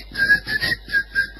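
A person whistling a short tune of four or five clear, close, loud notes in a quick rhythm.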